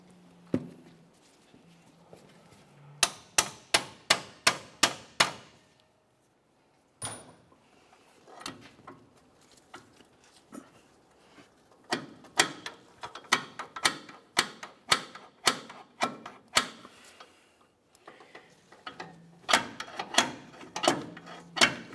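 Locking pliers grip the sleeve of a rusted front sway bar link on a 2001-2005 Ford Explorer Sport Trac as the bolt is worked out, giving bursts of rapid metallic clicking and ratcheting taps with short pauses between them, close and fairly quiet.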